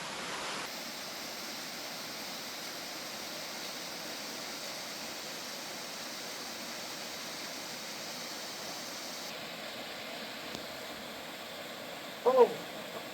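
Steady creek water rushes over rocks in a continuous, even wash that fills the whole stretch, with a brief knock or splash near the end.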